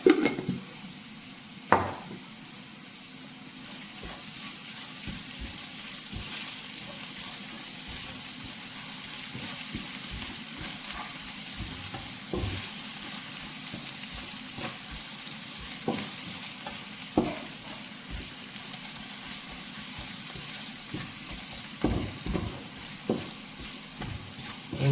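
Onions fry in a pan with a light, steady sizzle while a spoon scrapes and clinks against the metal every few seconds, producing sharp knocks over the hiss. Faint background, no talking.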